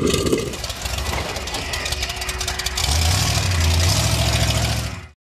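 A 4x4 off-road truck's engine runs roughly, its loud low rumble dipping and surging as it threatens to stall, then swelling heavier before cutting off abruptly near the end.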